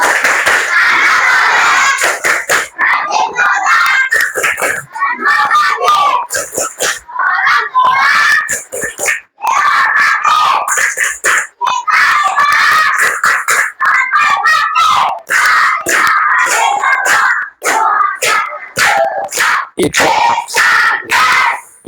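Children perform the 'tepuk anak soleh' clapping chant in a classroom, with loud rhythmic group clapping bursts alternating with shouted chanting voices throughout.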